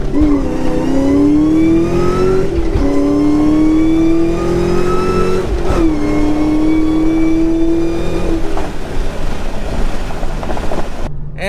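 A 2004 Ford SVT Cobra engine revs hard and climbs in pitch through several gear changes, loud and close, the roar rising then dropping at each shift.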